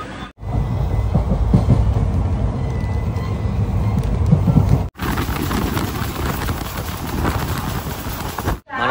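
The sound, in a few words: CirCar Express train arriving at station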